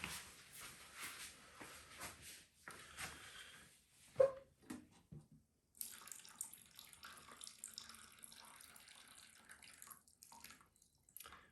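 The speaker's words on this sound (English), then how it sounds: "still the radiator underneath over here is full of water. So we'll just tilt the PC a bit to get that water also out." Water drains and splashes out of a water-cooled PC's radiator as the case, a Lian Li O11D XL build, is tilted, with trickling, dripping bursts that stop briefly midway and then resume as a steadier close pour.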